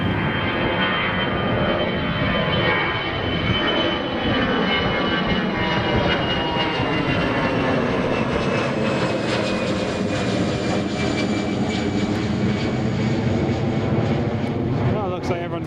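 A Ryanair airliner pushes back at Newcastle International Airport, a steady, loud engine roar and whine filling the whole stretch without a break.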